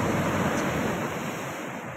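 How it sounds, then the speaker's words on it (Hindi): Sea waves surge steadily at Freedom Beach, Thailand, a loud, continuous wash of surf with wind noise in the microphone and no voices. "पानी का जो हलचल है ना वो"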